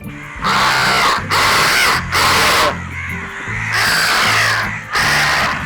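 A man imitates crow caws with his voice, giving five loud, harsh, close-up caws in a broken rhythm with short pauses between them.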